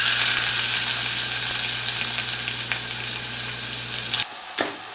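Whole spices and chopped onion sizzle steadily in hot oil in a pan, a dense continuous frying hiss with a low steady hum underneath, ending abruptly in near silence with a faint clink of stirring.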